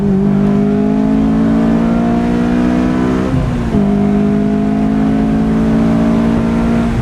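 A modified Honda S2000 engine revs hard and close, pitch climbing steadily, dipping briefly at a gear change, then rising again.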